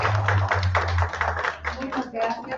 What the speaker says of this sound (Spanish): Bienvenida, le damos un fuerte aplauso.